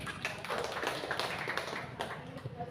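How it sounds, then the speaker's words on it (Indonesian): An indoor audience at a teacher-training session applauds, a dense, even wash of many hands clapping at once, steady and fairly close throughout. "Oke, beri tepuk tangan."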